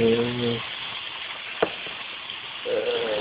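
Meat frying in a pan with steady sizzling hiss throughout, briefly joined by a single sharp tap, with voices talking over it at the start and end.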